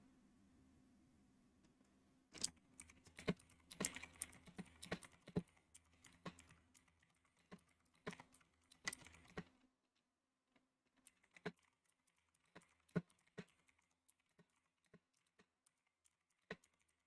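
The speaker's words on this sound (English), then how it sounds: "Oh, I'm just typing stuff out in Team Bull." Quiet clicking bursts from a computer keyboard come in uneven flurries, pause briefly, then resume as scattered keystrokes, close but faint in an otherwise quiet room with no talking.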